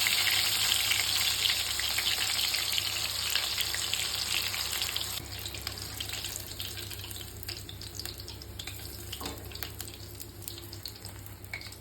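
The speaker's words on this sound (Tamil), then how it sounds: "இன்னொரு பேட்சை போட்டு பொரிச்சு எடுத்துடலாம்" A batch of chicken 65 deep-frying in oil gives a dense, steady crackling sizzle, loud at first and easing slightly later, with faint clinks near the end.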